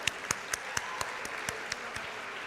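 Sparse, scattered clapping at a university convocation ceremony, a few distinct claps at a time spaced irregularly and fairly faint in a large hall.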